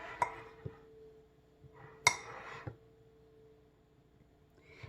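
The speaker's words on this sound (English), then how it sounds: "we're just going to give these a little mix" Flour and spices stirred together in a bowl for cookie dough: a few light clinks and taps of a utensil against the bowl, close and soft, separated by brief pauses.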